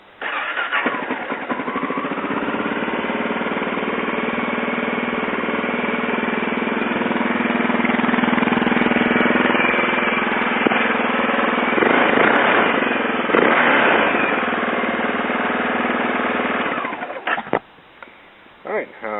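A Honda XR650L motorcycle with an IMS Baja kit and smog removal cranks and fires up, then settles into a loud, steady single-cylinder idle close by before cutting off near the end.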